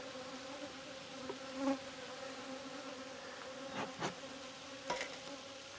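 Honeybees buzz steadily around an open hive during an apiary inspection, a continuous close drone with a few louder passes as individual bees fly near.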